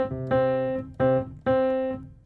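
Single piano notes play a bossa nova rhythm pattern, three clear struck tones with ringing sustain, close and moderately loud, alone without talk.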